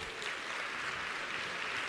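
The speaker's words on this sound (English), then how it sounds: "So give them a round of applause." An audience at a keynote talk claps together, a soft, steady wash of applause that stays fairly distant and even throughout, with no voices standing out.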